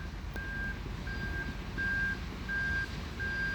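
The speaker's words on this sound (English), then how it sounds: "That beep beep beeping, that's up there where they're digging up the creek again." Regular reversing beeps from a distant construction truck digging up a creek, five evenly spaced tones over a steady low rumble of machinery.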